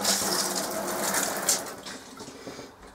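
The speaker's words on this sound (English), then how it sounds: "That's the shower working" Water sprays steadily from the shower head of a 1997 Swift Classic Doublette touring caravan, a continuous hissing rush that dips slightly toward the end.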